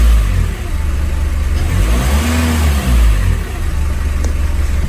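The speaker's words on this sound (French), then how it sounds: "j'ai accéléré. Déjà j'ai entendu le turbo, mais là genre l'accélération elle est incroyable" A car engine revving and accelerating hard after a new sensor was fitted, heard up close as a loud, rising and falling engine roar with turbo whoosh, no speech.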